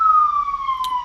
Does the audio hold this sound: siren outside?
yes